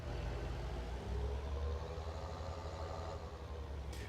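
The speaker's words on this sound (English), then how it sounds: "I like the sound on this tractor too." A low, steady tractor engine idle rumbles quietly and evenly, with no voices, in Farming Simulator 19 on the Holzer map.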